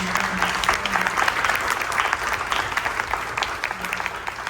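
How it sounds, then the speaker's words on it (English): An audience applauds a panel on stage, a steady round of many hands clapping at moderate volume, evenly sustained for several seconds with a low hum underneath. "Let's give them a big round of applause."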